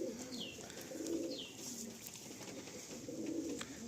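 A pigeon coos softly in a series of low, rounded notes, with faint bird chirps and light background noise around it and no talk.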